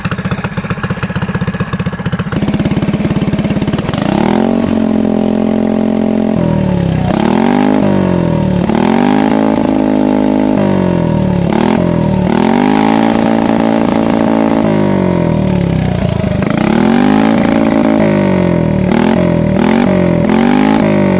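A mini bike engine with a sticking throttle runs loud and close, settling into an idle and then revving up in repeated bursts that rise and fall in pitch, with no talk over it.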